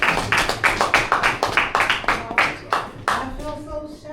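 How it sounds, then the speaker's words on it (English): An audience at a poetry night claps in a loose, irregular rhythm, a dozen or so distinct sharp hand claps close to the microphone, thinning out toward the end as a voice begins speaking. "Keep clapping if they come to the stage"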